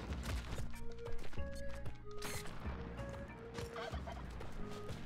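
Turkeys gobble repeatedly in the Spelunky 2 video game, several short warbling calls over steady game music and effects, loud and close.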